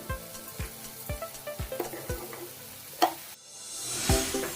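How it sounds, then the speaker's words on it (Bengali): Egg noodle ingredients with green chilli and tomato are stirred in a frying pan with repeated rhythmic scraping taps. A sizzle rises at the end, close and moderately loud, with no voices. "এবার উপকরণগুলো ভালো করে নাড়িয়ে নেব।"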